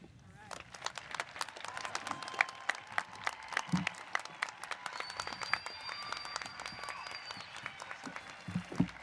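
Audience applause at a 2021 School of Engineering commencement ceremony: dense, steady clapping from a large crowd fills the whole stretch, with a few faint high tones and scattered louder claps mixed in.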